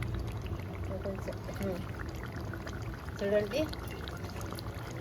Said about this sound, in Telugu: కొంచెం వాటర్ వేసుకొని కడిగి కుక్కర్లో వేసుకుందామండి